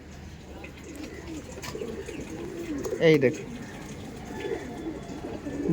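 Punjabi Malbai pigeons coo in low, repeated rolling calls close by, with a louder burst around the middle, while someone speaks briefly over them.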